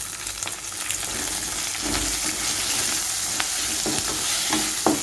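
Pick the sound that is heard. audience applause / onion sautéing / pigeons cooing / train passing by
onion sautéing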